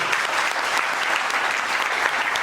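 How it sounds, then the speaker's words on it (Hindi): Loud, dense applause from an audience at a company training event in honour of a speaker, steady crowd clapping filling the room without a pause. "जोरदार तालियां एक बार होनी चाहिए हमारे बड़े भाई रविंद्र कुमार शेट्टी भैया के लिए"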